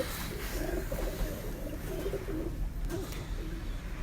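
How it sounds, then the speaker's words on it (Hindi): A Salara Taddy pigeon giving soft, low repeated coos, fairly faint and close, over a steady background hum with no talking. "सलारा कबूतर है जी, ये भी सलारा टैडी जी।"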